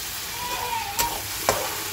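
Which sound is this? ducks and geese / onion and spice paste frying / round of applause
onion and spice paste frying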